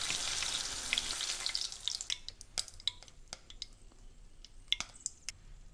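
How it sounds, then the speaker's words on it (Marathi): Slit green chilies fry in oil with a soft fizzing hiss at first that thins out into quiet, scattered pops and sharp crackles, fairly faint and with no talking. "भजीबरोबर खाण्यासाठी मिरची तळूया"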